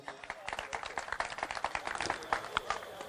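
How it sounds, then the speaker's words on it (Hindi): A mushaira audience claps to welcome a poet, a short burst of scattered, uneven hand claps from a nearby crowd, with some voices mixed in. "आप लोग तालियों से इस्तकबाल कीजिए।"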